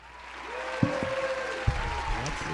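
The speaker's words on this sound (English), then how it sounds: "It's like a whole stadium worth of claps." An audience applauds a band with a steady wash of clapping and a few louder claps, while a voice speaks over it.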